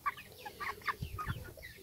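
Thirty-day-old broiler chicks in a makeshift pen, giving soft, scattered clucks and chirps at low volume, with a few slightly louder low calls partway through.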